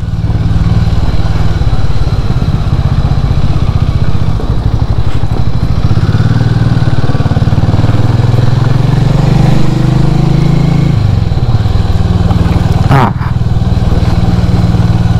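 A Harley motorcycle ridden on a rough, broken road through a ghat engine roars loudly and continuously up close, with rattles and clatter over the uneven surface and a sharp knock near the end.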